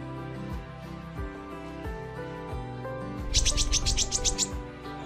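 A freshly trapped sunbird held in a cage gives a quick series of high chirps close by, alongside lower thumps and background tonal noise, with no talking.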